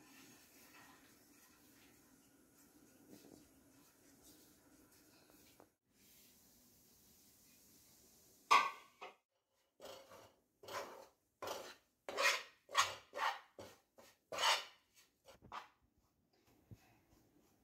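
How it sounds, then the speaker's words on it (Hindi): Coriander dry-roasts in a pan, with a faint scraping hum at first and then a run of sharp, close scrapes and rasps of a spoon stirring against the metal, one after another, without talk. "सबसे पहले हमने धनिया भूनना है।"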